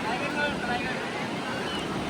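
A boat on the water at Diveagar beach, heard as a brief, steady wash of waves and wind buffeting the microphone, with no distinct engine beats standing out.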